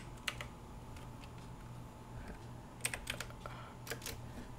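Keys tapped on a computer keyboard while a search is typed on a Windows PC, with soft scattered keystrokes that come in small bursts and sit alone in a quiet room.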